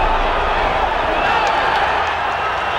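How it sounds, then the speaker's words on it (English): A boxing arena crowd yells and roars through the fourth round of Sugar Ray Leonard against Mayweather, a loud, dense, unbroken wall of voices with no pause. "Crowd yells."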